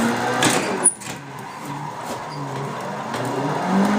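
Nissan 180SX engine in Assetto Corsa revving above 4,000 RPM while drifting on Happogahara Touge, a sustained engine drone with a brief sharp tire chirp early on and no talking.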